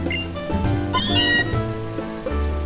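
A cat meows in the video game Pokemon Sun, a short game-audio mew over steady background music.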